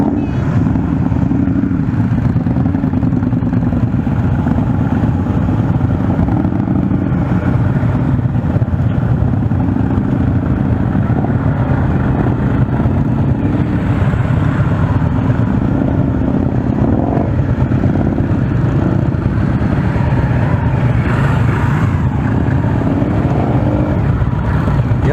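Steady low engine rumble from an Indian motorcycle creeping slowly through a course of cones, a continuous near drone with slight throttle swells and no talk.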